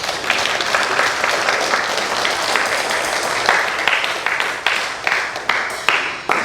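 Sustained applause from a church congregation, many hands clapping in a dense, continuous patter that thins and tapers toward the end.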